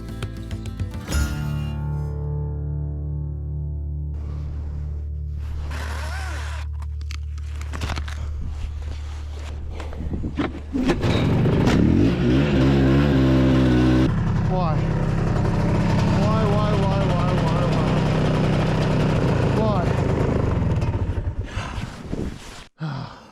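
An old Bravo snowmobile engine rides through snowy Newfoundland woods, a loud steady drone that climbs into a harder, throatier rev about halfway through and holds there before easing off at the end.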